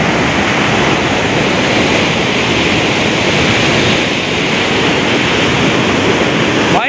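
Fast-flowing water rushes through a small canal beside a dam, a loud, dense, unbroken roar close to the listener with no pauses.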